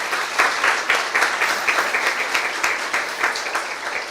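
A church congregation applauding for Jesus during a sermon, dense rhythmic clapping from many hands with a loose pulse, loud and filling the space throughout.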